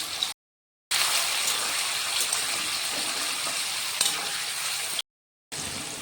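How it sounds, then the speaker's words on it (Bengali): Paneer pieces frying in hot oil in a pan, a dense, steady hiss and crackle that fills the clip, cut by two short silent breaks. "তেলটা গরম হয়ে গেল, আমি পনিরটা সেঁতলিয়ে নিচ্ছি।"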